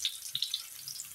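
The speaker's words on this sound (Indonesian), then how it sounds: "Saya tumis terlebih dahulu beserta dengan lengkuas pemirsa." Shallots, garlic and galangal sauté in a pan with a soft, faint sizzle and a few brief crackling pops, close by and without talk.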